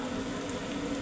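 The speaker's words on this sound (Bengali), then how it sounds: "একদম লাল লাল করে আমার পেঁয়াজগুলো ভাজা হবে" Onions frying in a pan for a lightly spiced mutton dish cooked without garam masala: a steady, close, even crackle and hiss with no voices.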